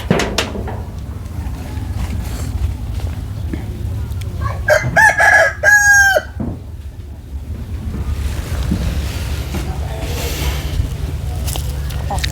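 A rooster crows once loudly at close range, a drawn-out call standing above a steady low background rumble that resembles surf or a boat engine, with faint clucking-like sounds scattered before and after.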